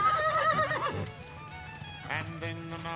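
Horses whinny and neigh loudly up close, with hoofbeats clattering underneath as the herd moves at speed across open Montana country.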